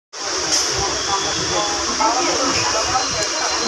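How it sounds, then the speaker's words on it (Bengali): A suburban train pulling out of Sealdah station, heard from inside a compartment as a steady loud hiss and rumble with a rhythmic low thumping beneath, continuous and close. "ট্রেন আমাদের ছেড়ে দিয়েছে শিয়ালদা স্টেশন থেকে।"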